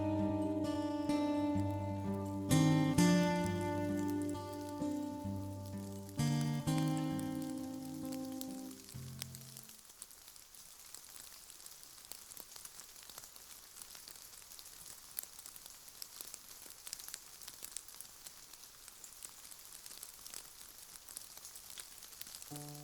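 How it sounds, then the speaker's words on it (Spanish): Steady rain falls with a soft, even hiss and patter that continues alone after a few seconds of melodic music fade away. "Está lloviendo el día de hoy."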